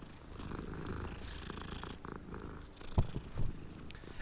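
A cat in a video game purring while being petted, a continuous soft rumbling purr up close, with a couple of louder bumps near the end.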